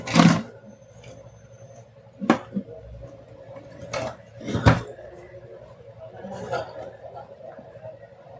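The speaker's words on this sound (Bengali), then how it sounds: "রিলের একটা সাউন্ড আসছে কিনা" An IGBT inverter welding machine, wired in series during repair, gives a few sharp, separate clicks from its relay over a quiet background hum.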